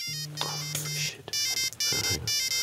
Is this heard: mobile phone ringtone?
yes